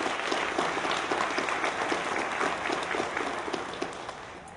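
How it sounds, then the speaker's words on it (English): A graduation audience at HCTC's 2013 ceremony applauds an award recipient, with full, steady clapping from many hands that tapers slightly toward the end. "If we could please recognize her with a round of applause."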